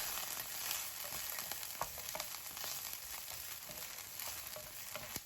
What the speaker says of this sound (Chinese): 锅留底油，下入豆豉和蒜子，将蒜子和豆豉给它爆香。